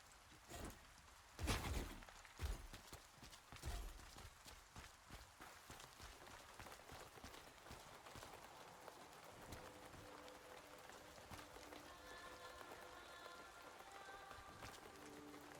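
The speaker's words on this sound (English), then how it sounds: "Get out of the rain" Rain in the video game Throne and Liberty, a steady patter of drops on surfaces that runs throughout, with a few louder thumps and footstep-like knocks early and faint tonal game sounds later.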